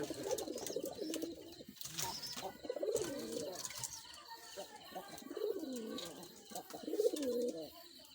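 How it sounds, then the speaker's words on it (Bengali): Pet wild red pigeons coo softly and repeatedly in a loft, with rolling calls rising and falling over several seconds and occasional light rustles close by. "এগুলো আমার সব শখের কবুতর"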